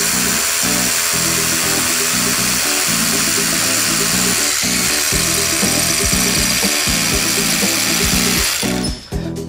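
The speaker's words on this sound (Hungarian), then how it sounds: "A lyukat kifúrtuk" A power drill bores a dowel hole into a building facade for mounting rock wool insulation boards. It grinds loudly and continuously at close range, then winds down near the end.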